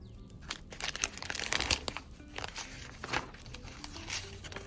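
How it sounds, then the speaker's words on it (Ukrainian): Paper sticker packet being pressed onto a page of a paper-craft surprise book, giving close, soft crinkling and rustling of paper with a few sharper crunches, with no voices. "Пакетик у нас також у вигляді наклейки. Одразу його наклеїмо."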